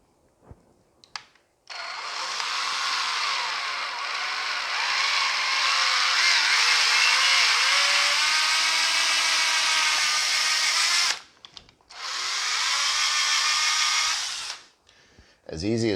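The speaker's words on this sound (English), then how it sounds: "so let's route this out now" A power router cuts a hole while building a heated chicken waterer, whining loudly and steadily for about nine seconds, stopping briefly, then roaring again for a few seconds before winding down.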